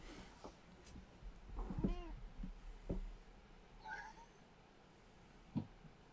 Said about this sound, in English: I definitely heard a cat then